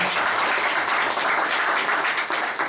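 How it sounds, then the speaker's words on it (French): Audience applause fills a hall at a French political meeting, a dense, loud, continuous clapping that holds steady throughout before easing slightly at the end. "Je voudrais qu'on acclame davantage"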